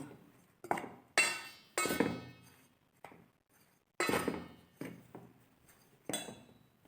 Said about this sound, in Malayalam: ഇതെല്ലാം കൂടെ ഒരു തവി ഉപയോഗിച്ച് നന്നായി യോജിപ്പിക്കുക